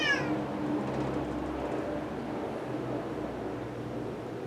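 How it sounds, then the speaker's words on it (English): A house cat gives a single close meow at the start, followed by quiet room noise and faint low rumble. "My cat is now nuzzling my leg."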